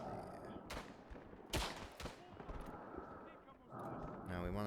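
Scattered gunfire in the World War I shooter Tannenberg, a few sharp, separate rifle cracks at uneven intervals, one nearby and loud, with battlefield noise and voices around them.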